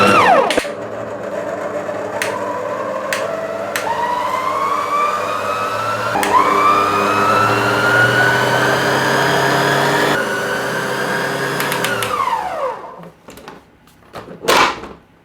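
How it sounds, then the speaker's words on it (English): An electric mixer whisks cream cheese and sugar for a Basque cheesecake, a steady motor whine that rises in pitch as it speeds up, runs loud and continuous for about twelve seconds, then winds down and stops. "but I've got a mixer"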